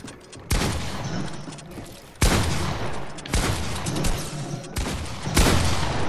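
Gunshots in a shooter game: several loud, sharp blasts each followed by a long noisy rumbling decay, irregularly spaced across a few seconds and close up.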